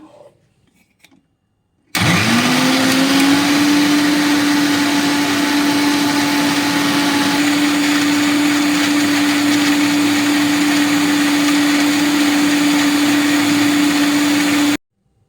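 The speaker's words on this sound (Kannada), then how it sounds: "ಇವಾಗ ಗ್ರೈಂಡ್ ಮಾಡ್ಕೊಂಬರೋಣ" A mixer grinder runs loud and close for about thirteen seconds, blending watermelon with lemon in a steady high whine that starts abruptly and then cuts off.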